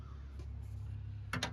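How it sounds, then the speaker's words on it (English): Crows give two short, harsh caws in quick succession near the end, moderately distant over a low outdoor rumble. "These birds, man. Crows."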